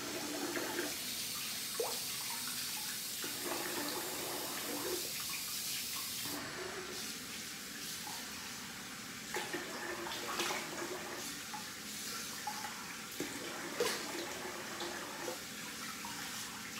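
Tap water runs steadily into a basin while someone rinses off, a close, fairly quiet wash of water broken by intermittent splashing and gurgling as hands pass through the stream.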